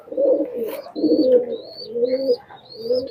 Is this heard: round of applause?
no